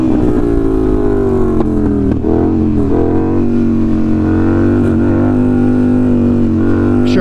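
Motorcycle engine revving steadily and loud at close range, a strong continuous drone with a brief throttle blip partway through, heard during wheelie riding.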